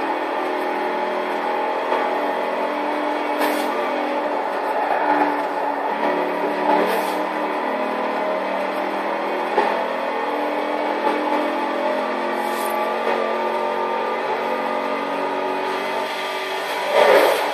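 A 2019 Chevy Corvette ZR1 engine in Forza Horizon 4, the supercharged V8 droning loudly and continuously at high revs, with brief rising surges and a few sharper spikes along the way.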